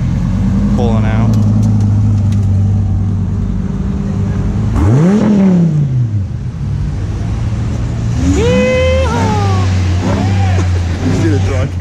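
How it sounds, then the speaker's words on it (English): A Dodge Viper engine rumbles close by and rises in pitch as it revs and pulls away at a cars and coffee meet in Columbus, over steady crowd noise with people talking. "we got the Viper General Lee"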